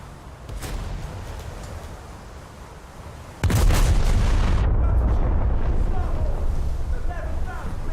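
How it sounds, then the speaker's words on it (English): Warship artillery fire in a naval combat video game set aboard HMS Barham, a loud sudden salvo boom around the midpoint followed by sustained rumbling, with a fainter shot earlier over a constant engine and sea background. "That ship shooting at me as well"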